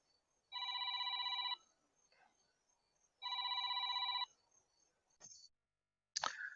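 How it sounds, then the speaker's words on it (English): A telephone rings in two long electronic bursts separated by a pause, loud and clear against a quiet room, followed by a couple of brief clicks. "I left my phone on"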